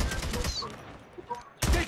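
An AK rifle fires in Call of Duty Mobile. A short burst of rapid shots comes first, then a louder burst at the end, with game noise and a brief voice in between.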